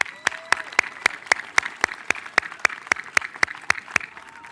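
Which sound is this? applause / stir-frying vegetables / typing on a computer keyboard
applause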